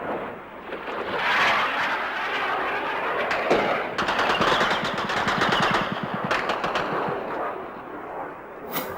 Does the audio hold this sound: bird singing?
no